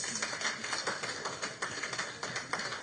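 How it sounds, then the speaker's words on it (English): Audience hand clapping for the education ministry at a live results event, a steady run of quick, fairly even claps across a hushed room, moderately near with no voices. "Another hand clap for the Ministry of Education and Sport."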